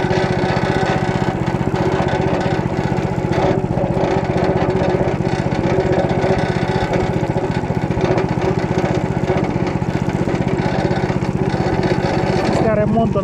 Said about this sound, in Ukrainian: Після ремонту начебто фреза працює нормально